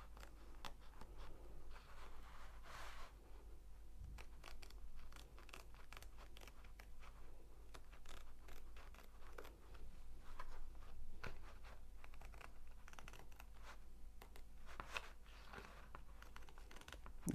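Scissors snip through the excess edge of a glue-backed diamond painting canvas, giving a steady run of close, crisp, crunchy cuts and crinkles with no speech.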